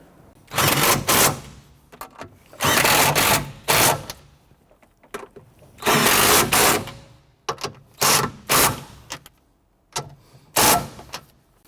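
Nuts are run down onto the rear strut studs of a 1992-1996 Toyota Camry with a ratchet or impact tool, several loud bursts of rapid mechanical rattling separated by short pauses.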